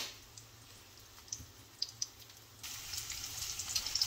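Korean pancakes frying in a pan give off a faint, soft sizzle with scattered small pops and crackles, rising a little louder in the second half.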